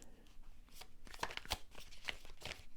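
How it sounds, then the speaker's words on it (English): Quiet riffling and soft slaps of a tarot card deck being shuffled, a few quick bursts close by, no talking. "One more shuffle."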